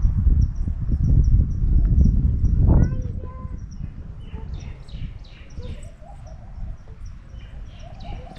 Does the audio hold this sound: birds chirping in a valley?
yes